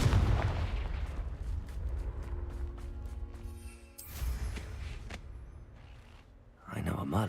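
Confringo blasting-spell explosions in the video game Hogwarts Legacy come as loud booming bursts near the start and again near the end, with a voice shouting between them and game sounds rumbling underneath.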